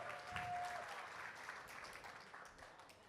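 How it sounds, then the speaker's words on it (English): Faint applause from an audience, a soft steady patter of clapping that continues for a few seconds. "give a round of applause"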